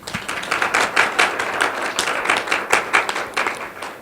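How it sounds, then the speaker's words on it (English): A pageant press conference audience breaks into sustained applause: dense, steady clapping from a room full of people, loud and continuous for several seconds without talking. "Can you please give yourself a warm round of applause"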